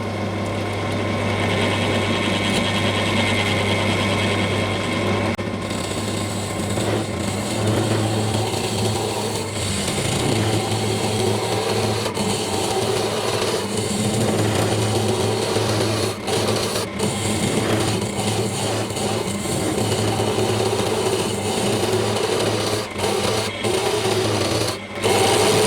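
A wood lathe turning slowly while hollowing a piece with a Harrison hollowing rig gives a steady low hum under continuous scraping and rasping of the cutter against the wood, with occasional sharp ticks.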